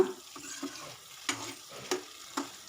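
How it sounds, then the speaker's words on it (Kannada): Eggplant fries in oil on a low flame, a faint, quiet sizzle with a few soft spoon taps and stirs spaced roughly half a second apart, close up and without talk. "ಈ ಬದನೆಕಾಯಿ ಸ್ವಲ್ಪ ಎಣ್ಣೆಯಲ್ಲಿ ಫ್ರೈ ಆಗಲಿ ಒಂದು ಐದು ನಿಮಿಷ ಸಣ್ಣ ಉರಿಯಲ್ಲಿ ಈ ರೀತಿ ಬೇಯಿಸ್ಕೊಳ್ಳೋಣ"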